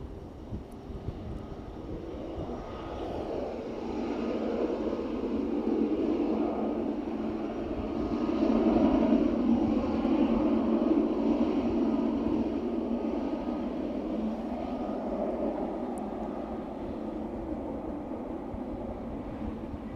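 An aircraft turns off the runway onto the taxiway at East Midlands Airport in the evening, a steady distant engine roar that swells slightly midway, with some wind noise.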